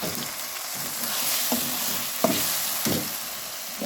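Chicken pieces sizzle and fry in a pan with tomato and chili for chicken dalcha, a steady close hiss broken by soft stirring scrapes and a few sharper clicks, with no talking.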